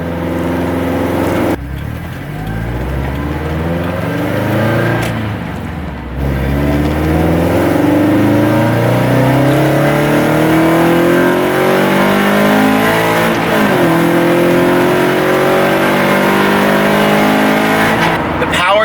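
A tuned Subaru BRZ with an Open Flash tablet tune revs hard through the gears, its engine note climbing in smooth rising sweeps broken by shift dips, loud from inside the cabin.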